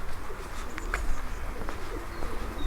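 Soft, low cooing of several racing pigeons close by in a loft, overlapping murmurs with a few faint chirps and wing rustles.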